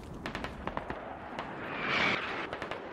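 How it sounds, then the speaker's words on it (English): Mortar rounds landing in a forest in the game Squad, heard as scattered distant thumps and cracks with a rushing swell in the middle. "Ooh, a bunch of mortars in the forest here."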